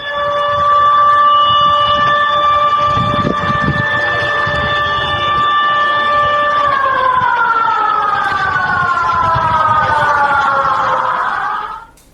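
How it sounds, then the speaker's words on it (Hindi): A tsunami alert siren in Mexico wails loud and steady for about twelve seconds, its tone holding level and then sliding downward before it cuts off, with faint background rumble beneath. "और इसके बाद मैक्सिको में सुनामी अलर्ट का सायरन भी बजने लगा इसी के साथ।"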